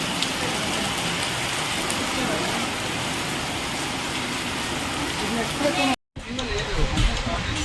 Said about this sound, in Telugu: ఇప్పుడు చూడండి ఇప్పుడు ఎంత పెద్దగా పడుతుందో